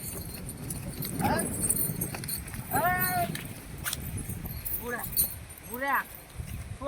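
A horse's hooves clip-clop irregularly on the ground while people talk and call out over them.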